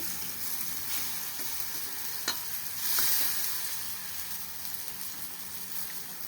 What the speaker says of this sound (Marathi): तेल सुटतं बाजूला आणि कढीपत्ता टाकते